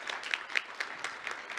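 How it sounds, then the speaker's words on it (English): Conference audience applauding after a presentation at a mayors forum, light, sparse clapping with a loose rhythm, faint and somewhat distant, no talk over it. "Round of applause there for Carol."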